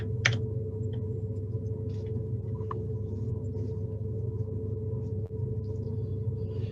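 Excess water from the Ladybower reservoir dam overflow rushes down the spillway: a steady, continuous low rumble that holds throughout with a few faint ticks on top and no voices.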